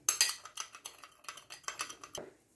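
A spoon mixing cinnamon into fruit salsa in a bowl, giving a quick run of light, close clinks and taps that thin out and fade after about two seconds.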